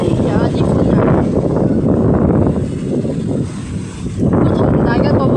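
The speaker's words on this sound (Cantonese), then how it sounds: "喂，啲風又嚟，啲風又嚟啦" Strong typhoon wind gusts roar and buffet a microphone outdoors on a street with fallen trees, a loud, sustained broadband rush that briefly eases before surging back.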